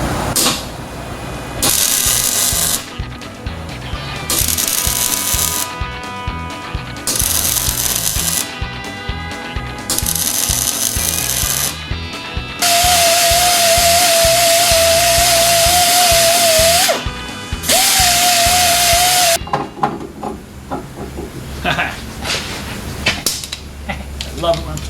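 Ratchet and power tools clicking and whirring while bolting a truck lift block together on a GMC Sierra 1500, loud bursts of broadband mechanical noise with a steady whine midway, close by.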